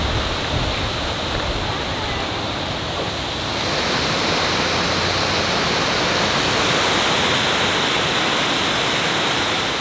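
Water pours steadily in a dense, rushing roar, loud and close, from a small waterfall flowing from beneath a road at Letchworth State Park, never letting up.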